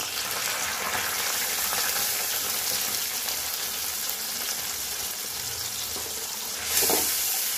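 A spice mixture thinned with a little water hits a hot pan for Bengali mochar dal, giving a loud, steady hissing sizzle throughout that flares briefly near the end, with no talking.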